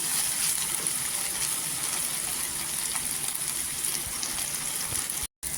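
Onion and tomato with ginger-garlic paste sizzle in oil in a pan, giving a steady soft hiss and crackle that runs throughout with a tiny break near the end, with no voices.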